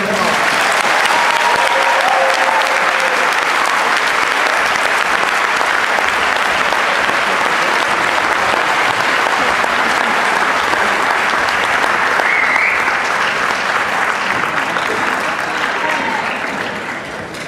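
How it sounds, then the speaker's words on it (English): Sustained, loud audience applause fills a high school gym during a senior awards presentation, dense clapping lasting well over fifteen seconds before slowly fading, with scattered voices underneath. "I think that deserves an outstanding round of applause."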